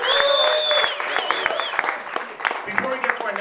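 Applause from an audience at a startup talks event greets a presenter, steady clapping running throughout while a whistle-like tone glides above and a voice talks over it.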